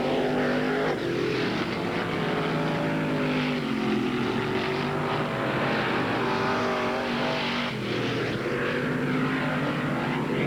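Late model stock cars racing around a speedway in 1981, a steady roar of engines sweeping past at a distance, rising and falling as cars pass, with no talk over it.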